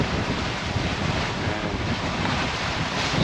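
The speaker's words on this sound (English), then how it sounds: "I don't know if you can hear me over the wind." Strong gusty wind roars across the microphone aboard a sailboat in the Everglades, a loud, constant buffeting with no voices.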